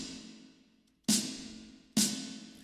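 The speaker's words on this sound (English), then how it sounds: "So that's the body of the snare and the reverb," A snare drum sample with reverb, two sharp hits about a second apart, each ringing out in a broad, decaying reverb tail, quiet and isolated with no talking.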